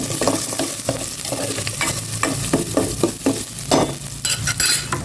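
Sliced onion and chili sautéing in a hot pan, with continuous sizzling and frying broken by repeated scrapes and stirs of a utensil against the pan, close and fairly loud, no talking.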